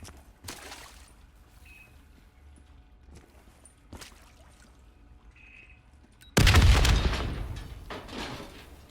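Explosion in the Black Ops 3 zombie campaign video game, a sudden loud full-range blast that decays over a couple of seconds, after quieter footsteps and thuds.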